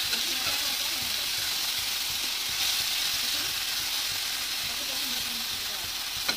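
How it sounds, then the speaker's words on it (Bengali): Small fish frying all together in a pan of oil, with a steady, close, continuous sizzle and hiss that holds for the whole stretch, plus a light scrape or two and faint talk in the background. "এভাবে করে ভাজা করে নেবো, সব একবারে ভাজা হয়ে যাবে ছোটো মাছটা।"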